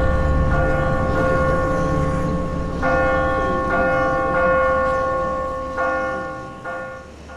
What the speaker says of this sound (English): The dinner bell is ringing